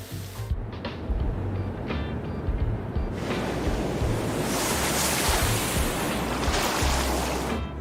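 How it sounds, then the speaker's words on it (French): Ocean waves breaking in a cartoon surf scene, a continuous loud wash of surf with wind-like hiss that swells stronger in the second half. "Sont sweet les vagues!"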